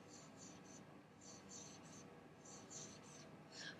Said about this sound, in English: in the blank, you're going to write add